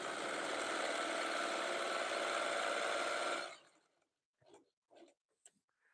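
A sewing machine stitches strips of fabric for a jelly roll rug, giving a fast, steady whirring drone for about three and a half seconds. It then cuts off, leaving a few faint, brief knocks.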